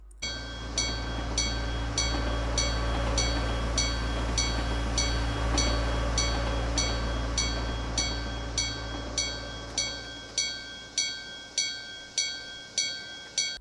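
Train rolling past a level crossing in the game Natsu-Mon, with a level-crossing bell ringing in a fast, regular loop over a steady low rumble, the rumble fading as the bell carries on alone.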